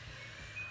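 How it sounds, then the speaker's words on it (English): A laundry machine beeps at home, a thin steady electronic tone sitting faint over a low background hum, with a brief higher beep near the end. "And you can hear my laundry machine beeping."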